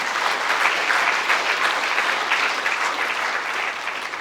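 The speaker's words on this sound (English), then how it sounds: "I hope we give a round of applause for this wonderful Indian." A lecture hall audience at a cricket memorial lecture breaks into sustained applause, a loud even wash of many hands clapping throughout without any speech.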